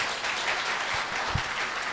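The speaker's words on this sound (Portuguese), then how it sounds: "Você pode dar um forte aplauso ao Senhor por isso?" A church congregation claps in strong, steady applause for a couple of seconds, a dense continuous roar of many hands filling the room.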